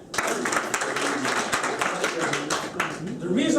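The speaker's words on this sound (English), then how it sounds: "The reason why I'm letting you clap is because it's better if we interact." An audience in a sales skills seminar claps together in a dense, continuous round of applause that starts abruptly and keeps going at a steady level, with a voice rising briefly near the end.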